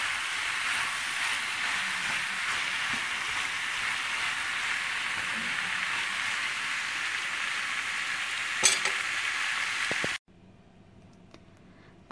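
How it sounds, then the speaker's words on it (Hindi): Masala pasta frying hard over a high flame, a steady dense sizzle running continuously before cutting off abruptly to a much quieter hiss near the end. "इन्हें हाई फ्लेम में 2 मिनट के लिए पकाएंगे और एकदम हमारे पास्ता रेडी।"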